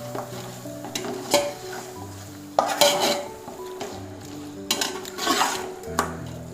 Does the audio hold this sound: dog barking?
no